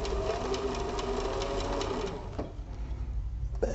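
A sewing machine runs steadily while stitching a crossbody bag's gusset seam, a close, continuous mechanical whir that thins out and slows near the end.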